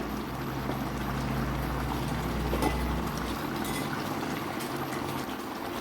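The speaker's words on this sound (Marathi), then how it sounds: "कालवनाला पण छान उकळी आली आहे" Agri-Koli style pomfret fish curry boiling on a high gas flame, a continuous close bubbling and simmering roar with no talk.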